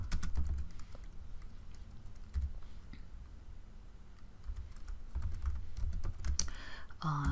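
Command being typed on a computer keyboard during a Linux memory dump demo, a close run of quick, uneven key clicks with short pauses between bursts, no talk.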